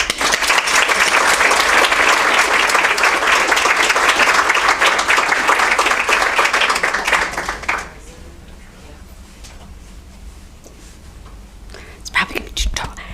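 An audience welcomes lecturer Cathy Graham with sustained, dense applause from a seated crowd that fills the room for about eight seconds, then fades to quiet murmuring with a few scattered claps near the end.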